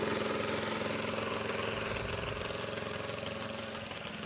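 An Allis-Chalmers tractor idling at a tractor pull, a loud, close, continuous rumbling engine with a steady chugging pulse that holds for several seconds, with no talking over it.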